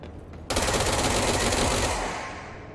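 Rapid automatic gunfire bursts out abruptly in the video game Control as bullets strike an invisible wall, a loud, continuous rattling stream that gradually fades toward the end.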